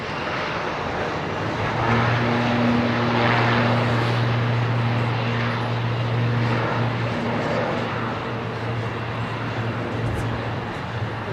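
A Boeing 777 on approach to London Heathrow gives a broad, steady engine roar with a low droning hum, fairly loud and sustained throughout, no talk.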